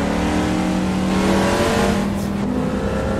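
A classic mid-engine sports car revs hard in a racing video game, its loud continuous engine drone holding steady with rising pitch throughout, with no talk over it.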